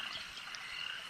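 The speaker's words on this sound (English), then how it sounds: "frogs sing soft lullabies from the banks" Frogs croak by an irrigation canal at night in a dense, steady chorus of soft trilling calls, fairly faint and continuous, with no voices.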